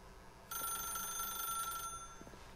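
A telephone rings inside The Stanley Parable, a bright electronic bell tone bursting in suddenly and sustaining steadily for over a second before cutting off, with faint background sounds at the start and end.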